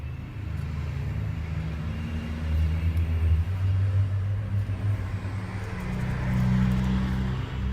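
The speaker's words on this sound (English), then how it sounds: "Pardon all those great big semis." Heavy semi trucks roll past on a nearby road, their deep engine rumble and tire roar swelling and fading in a continuous low wash of traffic noise with no voices.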